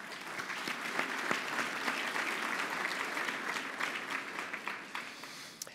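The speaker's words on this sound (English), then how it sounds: "Why don't you give yourselves a big round of applause?" Sustained applause fills a fundraising dinner held to support military members, with many hands clapping in a steady, dense patter from a large room and slightly easing toward the end.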